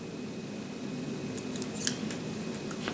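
Wire is cut near its insulation, with a few short, faint snips standing out over a low, steady background hum.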